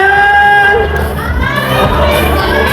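Fan event crowd cheering and shrieking loudly, a dense roar of excited voices with high-pitched screams, the noise continuous and close from start to end, with amplified music tones ringing over it.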